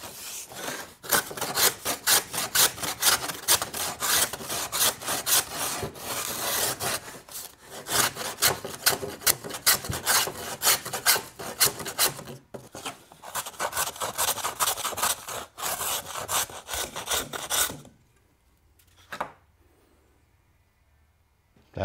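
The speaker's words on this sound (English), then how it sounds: "In the block plane, I can split this line right in half." Block plane shaving a curved, raked wooden transom frame for a boat, worked freehand: steady rasping strokes in quick succession for about eighteen seconds, loud and close, then stopping into near silence.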